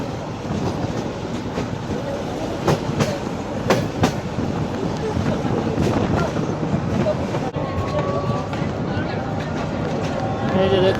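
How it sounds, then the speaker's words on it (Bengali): A Narayanganj commuter train rolls along a 150-year-old rail line near Shyampur station, a steady rumbling carriage noise with rhythmic clickety-clack wheel beats and wind buffeting, heard from on board with people talking over it. "এই যে সামনে বিশাল একটা ট্রেন।"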